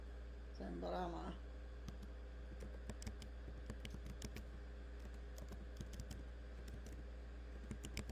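Computer keyboard typing, scattered light key clicks at close range over a steady low hum, with a brief voice near the start.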